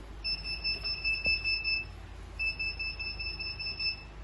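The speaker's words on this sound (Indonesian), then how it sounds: "Buzzer akan menyala selama 8 detik kalau ada penyusup." An intruder-detection buzzer on a motion-sensing security system sounds two long steady high-pitched electronic tones separated by a short gap, loud and close in an otherwise quiet room.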